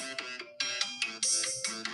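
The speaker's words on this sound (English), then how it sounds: "That's my alarm telling me we got 5 minutes left in class." A phone alarm ringtone plays in a quiet classroom, a bright repeating electronic melody of short pulsing notes that continues steadily for about two seconds with no talk over it.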